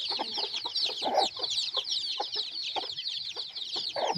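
Country hen with about fifteen chicks on a farm: steady high peeping from the chicks over soft, repeated low clucks from the mother hen, close and moderately quiet, with no talk.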